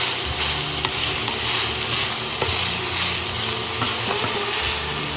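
Onions stirred and sautéed in a pan for Texas hash, a dense continuous sizzle with occasional light spoon scrapes, loud and close, no speech.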